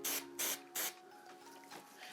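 Three quick bursts from a spray bottle misting a synthetic wig during rooting, each a short loud hiss with brief gaps, followed by quieter handling noise.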